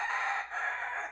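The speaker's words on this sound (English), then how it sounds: "Buff Orpington chickens like Strawberry here." A Buff Orpington hen giving a short, close, high-pitched crow-like call, loud and alone for just over a second.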